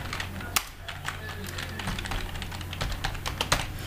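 Rapid, uneven typing on a computer keyboard while entering text into a LaTeX document, a steady run of close, crisp key clicks over low electrical hum.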